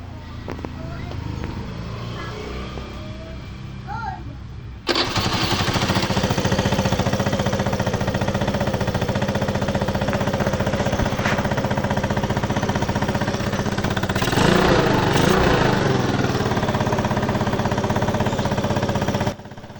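A quiet rumbling idle suddenly jumps to a loud, steady 125 motorcycle engine running close by with a newly replaced carburetor after long storage, chugging continuously with a brief rev partway through.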